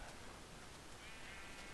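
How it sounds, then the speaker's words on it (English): A sheep bleats in the Minecraft video game, in a jungle area. Steady, faint, low-level game audio with a brief thin tonal cry, heard alone without talk. "There's a sheep."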